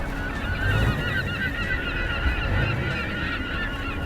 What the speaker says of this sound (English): whenever I hear seagulls, it kind of takes me back.